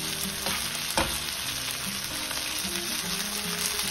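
Pomfret fish fries in a pan with a steady, busy sizzle and crackle, close up and continuous, with a brief scrape or bump of the pan partway through.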